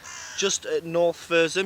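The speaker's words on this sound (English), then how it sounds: "There's a lot of noisy crows." Crows give several loud, harsh caws close by on a morning above the breakwater at Brixham in Torbay, with someone speaking over them.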